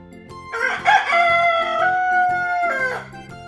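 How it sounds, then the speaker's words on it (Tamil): A single loud rooster crow, a long quavering cock-a-doodle-doo heard up close, with a soft repeating beat underneath. "கோழி எப்படி கத்தும்?"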